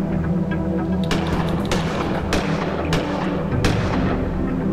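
Player's weapon firing in the point-and-click game Gemini Rue, about five loud, sharp shots at uneven intervals over low game ambience, no talk.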